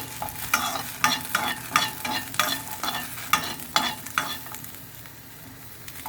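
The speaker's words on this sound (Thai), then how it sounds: "อันนี้ก็คั่วพริก" Chilies dry-roasting in a pan while being stirred, with repeated rhythmic scraping strokes and light rattling over a faint crackle, fading toward the end.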